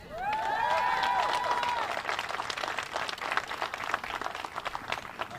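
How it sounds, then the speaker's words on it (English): Outdoor crowd applause at a Pride flag raising, with a whoop or cheer at the start, then scattered clapping that thins over several seconds. "Your applause only cuts into my time."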